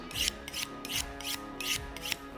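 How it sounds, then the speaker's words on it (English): A knife is drawn across a diamond sharpening steel in about five quick rasping passes with an even rhythm, close and clear, with no talking. "That's a diamond sharpening steel. And just a few passes,"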